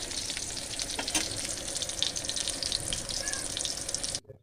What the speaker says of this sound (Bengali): সুন্দর করে দুই পাশে ভাইজা তারপর উঠাই নিব